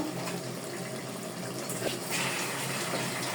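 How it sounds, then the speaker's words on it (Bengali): Water is poured generously into a pot of curry that has been simmering about forty minutes, making a continuous splashing, gurgling rush that stays fairly steady for a few seconds. "আমি একটু জল রাখবো তাই জল দিলাম একটু বেশি করেই"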